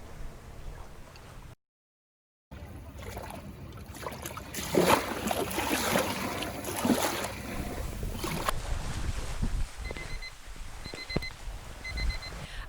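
A boat motors past on the Loxahatchee River, a steady broad wash of engine and splashing wake swelling then easing, with faint wind and a beeping tone near the end.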